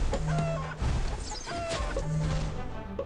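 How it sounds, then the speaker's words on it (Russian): Clucking chickens in the What The Hen video game give several short, close calls spread over a few seconds, with a brief clattering knock among them and steady game sound underneath. "Так, ну курица, как ты видишь,"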